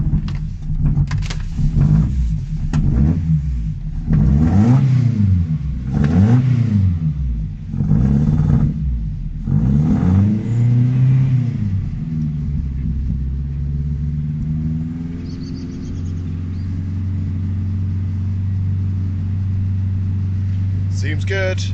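A rear-wheel-drive Nissan Micra engine starts and revs in neutral, rising and falling in repeated throttle blips before settling to a steady idle, loud and close with no talk.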